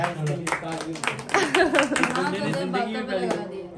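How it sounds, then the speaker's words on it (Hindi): Hand clapping at home during a celebratory moment, several quick claps mixed in with lively, overlapping talk and laughter close by. "मैंने भी पहले तालियां मार दे इसके लिए।"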